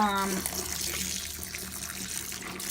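A kitchen tap runs steadily while menudo ingredients are rinsed under it, a close, continuous splashing rush filling the whole moment.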